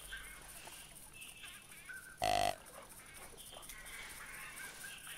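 A single short, loud honking call from ducks in the hunting video game theHunter 2016, rising sharply above a quiet outdoor ambience with faint distant bird calls.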